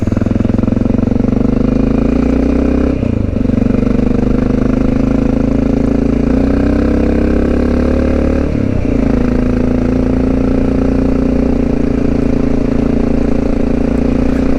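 A loaded Honda XR650L motorcycle climbs a mountain road, its single-cylinder engine droning loud and close throughout, with pitch holding fairly steady and two brief dips like gear shifts.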